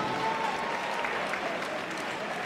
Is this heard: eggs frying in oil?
no